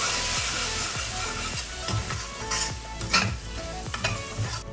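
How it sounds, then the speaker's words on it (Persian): Spices sizzle steadily in a hot pan for chickpea curry, with a spoon stirring and scraping in repeated strokes, close and moderately loud, no voices. "ادویه‌جات رو تفت میدیم تا رایحه خوبش بلند بشه."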